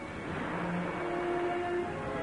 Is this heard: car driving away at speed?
yes